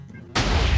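A sudden, loud Minecraft explosion bursts in after a short quiet stretch and roars on as a dense, rumbling blast until the end.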